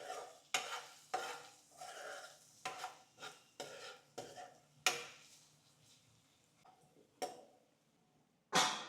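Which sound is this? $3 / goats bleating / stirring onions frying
stirring onions frying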